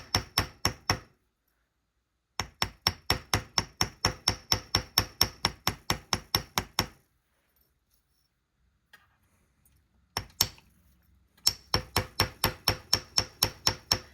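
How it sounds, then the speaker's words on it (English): Hammer tapping wire into eighth-note shapes in rapid, even runs of sharp metallic strikes, close and crisp, with a pause midway before the tapping resumes. "Just gonna hammer."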